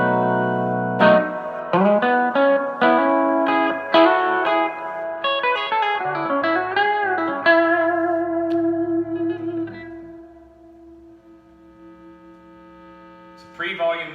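Guitar through a Fender Blues Junior IV amp with pre-volume cranked, master low and reverb cranked plays a run of overdriven notes and chords, then lets a final chord ring out and decay before a new chord strikes at the end.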